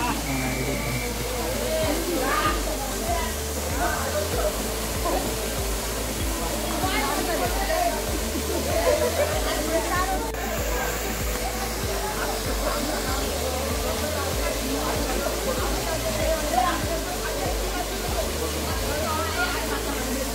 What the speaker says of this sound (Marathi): इथे हा समोर दिसतोय तो आपल्याला धबधबा आहे.